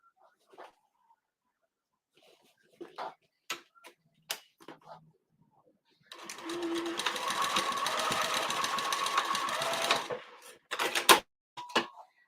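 Sewing machine stitching the corner of a snap pouch, a steady run of about four seconds with sparse handling clicks and taps before and after.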